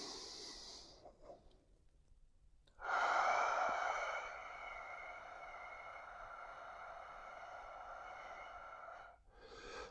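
Breathing during a couch stretch: a long hissing exhale through the mouth, then a loud nasal inhale and a sustained airy exhale, close and alone with no voice.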